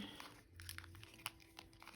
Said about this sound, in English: So now I'm going to shuffle this deck here.